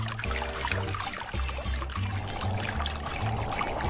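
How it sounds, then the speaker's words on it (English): Water pumped from a tank pours and splashes steadily over a honeycomb cooling pad in a portable evaporative air cooler, a continuous rushing stream, close by and fairly loud, with a low mechanical hum underneath. "Water pumped from the water tank pours over the honeycomb cooling pad."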